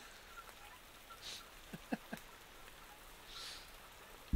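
Soft steady rain patters in the Parkitect theme park game, a faint even wash with a few light chirps and small taps rising over it.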